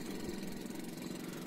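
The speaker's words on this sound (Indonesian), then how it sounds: "Kapal ini menggunakan mesin kecil ya, mesin diesel kecil" Small diesel engine of a river boat in Kalimantan running steadily, a constant low droning rumble close by with no pauses and no voices.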